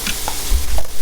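Onion being stirred and sautéed in a pan for rasta pasta, with a low rumble of frying under a few soft scraping stirs spread across a second.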